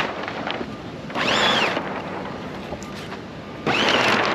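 Rope runs through fittings as the sail is hoisted on an RS Aero sailing dinghy, outdoors with steady wind noise, two bursts of rasping rope friction close to the microphone.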